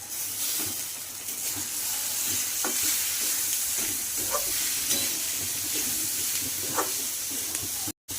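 Steady sizzling and frying hiss from bitter gourd being stir-fried in a pan, with occasional scraping stirs, close up and continuous, no voices.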